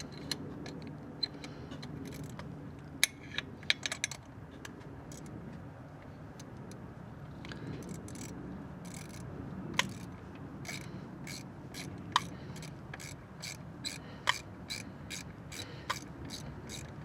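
A ratchet clicks in short bursts while bolts are run in on a 1996-2004 Nissan Pathfinder cooling fan, the faint sharp ticks scattered over a low steady hum.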